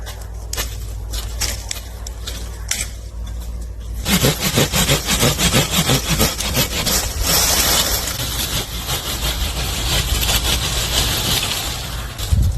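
Steady rasping strokes of a hand saw cut through branches of firewood, loud and close, continuing without pause after a quieter opening few seconds.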